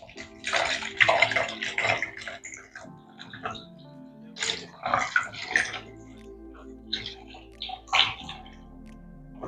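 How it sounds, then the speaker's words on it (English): Water poured into a mixture of glycerin for black soap shampoo, splashing in several separate bursts with quiet pauses between them, close and fairly loud. "Adding about 1000 ml of water."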